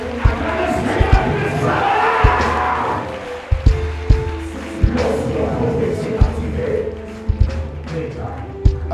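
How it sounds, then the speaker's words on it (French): A church congregation cheering and acclaiming Jesus, a loud crowd roar with shouts and sharp repeated claps or stomps, spread across the whole stretch. "C'est comme ça que tu acclames Jésus."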